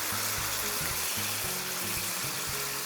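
Water being poured into a pan of stewing bell peppers and tomatoes, a steady close pour blending with a low simmering sizzle, with no talking.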